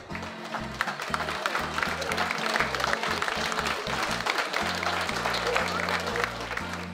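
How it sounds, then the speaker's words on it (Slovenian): Applause from the audience at an outdoor Slovenian polka and folk music show by Lake Farovec, a steady wash of many hands clapping that lasts the whole stretch, with a low bass-heavy music bed thumping underneath. "Zaslužite si en velik aplavz"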